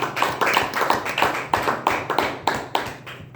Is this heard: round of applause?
yes